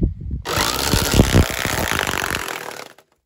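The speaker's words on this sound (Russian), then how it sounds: "И сейчас фигакнем триммером с тросиком по ней." A gas string trimmer fitted with a steel cable instead of line whirs loudly and steadily for about two and a half seconds as it strikes jeans covering a leg, the motor then cutting off into silence.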